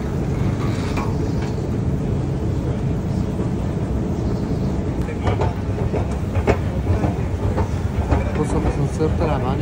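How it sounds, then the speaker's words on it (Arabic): Ambience at Liverpool Street station in central London, with a continuous rumble of trains and station noise plus scattered clicks and clatter, while someone talks over it. "ليفربول ستريت ستيشن أو محطة ليفربول ستريت"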